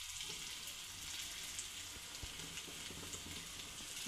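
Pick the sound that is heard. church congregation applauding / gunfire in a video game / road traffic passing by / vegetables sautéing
vegetables sautéing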